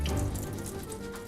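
Apples washed under cold running tap water with soap and a scrubby make a steady, fairly loud gush of water splashing in a sink, with no voice over it.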